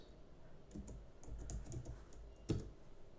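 Computer keyboard being typed on in a quiet room as a password is entered, a quick run of soft close key clicks ending in one firmer keystroke.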